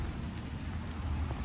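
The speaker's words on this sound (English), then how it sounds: "It is raining right now in Texas" Rain falls steadily outdoors in Texas, a dense, constant wash of drops with a low rumbling undertone, fairly loud and uninterrupted.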